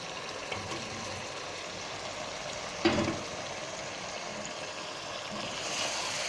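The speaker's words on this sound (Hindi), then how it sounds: "अब गोश्त को हम 2 मिनट तक मीडियम फ्लेम के ऊपर ही भूनेंगे।" Mutton fries in masala over a medium flame, giving a soft, even sizzle with a brief louder scrape or stir near the middle, fairly faint throughout.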